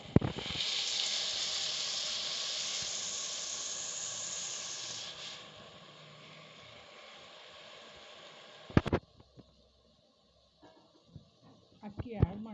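Rice added to a pan with plenty of water for togarikaali bhat sizzles and hisses loudly at first, then settles into a softer bubbling fizz, followed by a few sharp clinks and knocks of a utensil.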